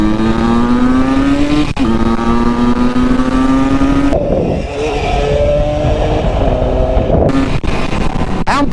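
A Husqvarna SM 125 motorcycle, doing a burnout, screams near at full throttle in high sustained revs that drop briefly and climb again, loud and close.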